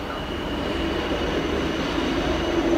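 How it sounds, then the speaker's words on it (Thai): A train pulls into a station in misty Switzerland, a loud steady rumble of wheels and carriages with a faint squeal, filling the whole stretch without voices. "รถไฟกำลังมา"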